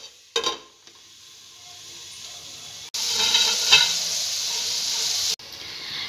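Vegetables cooking in a covered pan over a stove, a steady soft sizzle and hiss with a brief stir or clatter early on and a louder burst of frying in the middle.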